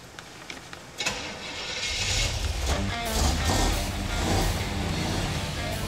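Car engine running loud and close, starting with a few clicks and a bump before settling into a steady, rough mid-range rumble with slight swells, louder than a Rolls Royce.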